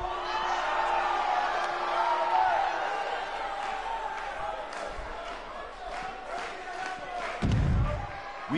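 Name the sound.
crowd in a wrestling arena, from a video game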